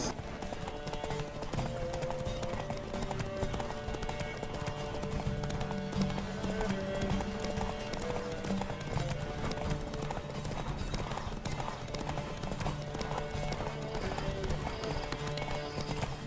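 Rapid, steady hoofbeats of a galloping horse in a Witcher video game continue throughout over a faint musical background, close and evenly rhythmic.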